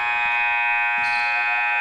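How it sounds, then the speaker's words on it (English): A basketball game-ending buzzer at a boys' city tournament sounds as a loud, steady electronic tone held through the whole clip, with faint crowd noise beneath. "Tavon Bush couldn't quite get that one to fall, even though the buzzer had went off"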